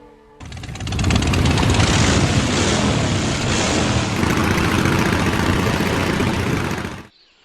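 A motor vehicle's engine runs loud and close for about seven seconds in a steady, dense roar, then cuts away abruptly into quiet. No one speaks.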